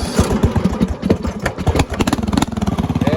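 A small engine on a riding lawn mower salvaged from the dump runs loud and close, its uneven chugging pulses speeding into a faster steady putter as it pulls away.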